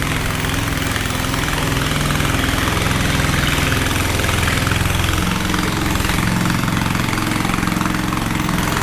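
A boat engine idles nearby with a steady, throbbing low chug and a constant mechanical vibration, loud and unbroken without any talk.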